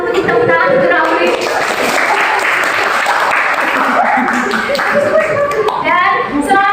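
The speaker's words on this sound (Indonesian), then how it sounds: "Silakan beri tepuk tangan untuk Rafli." Classroom of students clapping for a classmate with the top grade, dense steady applause mixed with overlapping children's voices and chatter throughout.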